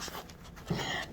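Dog panting softly nearby, a quiet breathy rhythm that grows slightly louder partway through.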